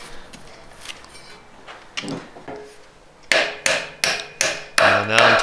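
Hammer blows on a band anchor pin in a 4L60E / 700R4 automatic transmission during a rebuild: a few light taps, then five or six sharp, loud metallic strikes in a steady rhythm, heard up close.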